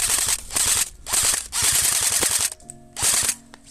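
Airsoft rifle firing in rapid bursts during a woodland match, several loud close strings of shots separated by short pauses, with a brief electronic tone near the end.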